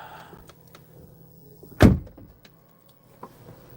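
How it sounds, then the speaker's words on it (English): A single solid thud of a Lotus Eletre car door shutting, sharp and close, with quiet cabin ambience before and after. "Now let's close the door."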